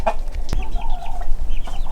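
Chickens cluck close by in short, soft bursts, a few overlapping calls and murmurs from young birds and older hens in a small flock.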